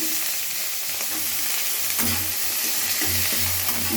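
Vegetables frying in a pan with cloves, cinnamon, ginger, cashews and raisins for fried rice, a steady close sizzle broken by repeated scraping stirs of a spatula, without talk.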